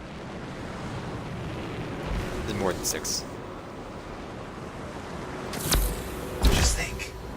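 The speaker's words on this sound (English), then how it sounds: "Look at the waterfalls, they're going backwards." Steady rushing water from waterfalls in the video game Anthem fills the scene with a constant broadband roar, and a brief voice speaks partway through.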